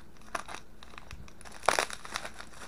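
Cutting through heavily taped packaging around an M1 Carbine rifle magazine, with scattered crinkles and light scrapes and then one louder crunching tear near the end, close by with no talking.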